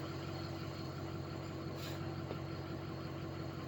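A diesel engine idles steadily while its IPR valve hunts between opening and closing, a constant low rumble with no break across the stretch.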